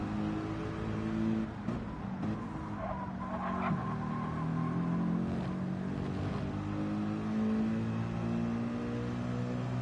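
Corvette GT1 race cars drone steadily in a racing game, engine notes rising and falling as they corner, with faint tire scrub, heard at moderate distance with no talking.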